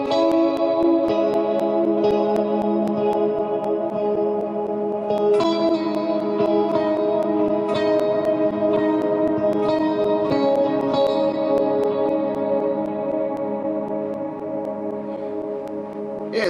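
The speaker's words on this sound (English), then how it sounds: "I've been working on an ambient sound with the HD500X." Ambient pitch-shifted guitar tone from a Line 6 POD HD500X, a dense, shimmering wash of sustained chords with chorus-like echo and reverb, steady and loud throughout with repeated picked attacks.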